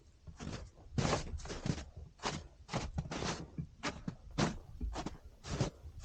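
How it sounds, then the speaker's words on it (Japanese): Footsteps crunch through slushy, sherbet-like melting snow on a winter marsh boardwalk trail, a steady walking rhythm of about a dozen close, crisp steps, each a short granular crunch, with no talking. "シャーベット状の雪のサクサクなる足音も捨てがたい。"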